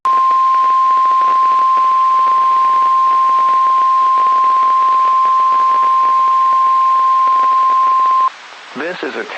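A NOAA Weather Radio warning alarm attention signal sounds as a loud, steady single tone held for about eight seconds over broadcast hiss, then cuts off as a voice begins speaking.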